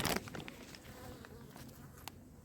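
Honeybees at a hive hum in a faint, continuous buzz, with a few light taps and rustles over the steady drone.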